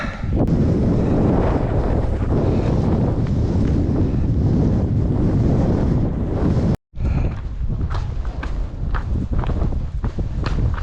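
Strong, steady wind buffets the microphone on Blencathra mountain in England's Lake District, a loud continuous roar with one brief dropout partway through, then gusts resume with small rustles and knocks.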